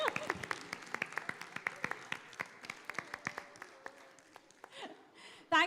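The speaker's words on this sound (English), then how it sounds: "A big round of applause for your mother." An audience at the WOW Festival Pakistan clapping in a modest round of applause, with distinct individual claps that thin out, and voices talking over the end.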